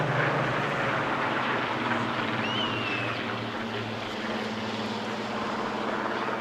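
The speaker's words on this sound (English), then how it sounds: "the blend of the two aircraft engines as they flew past our microphones" Two historic warbirds, a Supermarine Spitfire and a Hawker Hurricane, fly past at an airshow at Clacton, their piston engines blending into a loud, steady droning roar that holds throughout, with no talking.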